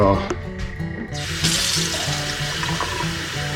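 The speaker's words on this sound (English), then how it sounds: "I'm going to thoroughly water these" Water poured from a container onto potted blueberry cuttings set inside a catch tray, a steady close splashing and trickling that runs continuously for several seconds, with faint background noise.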